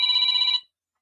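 A toy banana phone rings in one steady electronic trill for about half a second, loud and alone, then cuts to silence.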